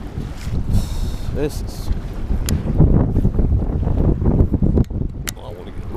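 Wind gusts buffet the microphone out on Lake Norman during a day of bass fishing, a loud rumbling roar that swells and dips throughout, while someone speaks briefly.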